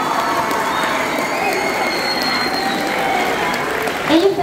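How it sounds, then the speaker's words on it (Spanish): Loud, sustained applause from a school audience welcoming the school director at a student talent event, with a crowd murmur and a few shouts mixed into the steady clapping. "Un aplauso también muy fuerte para la maestra directora"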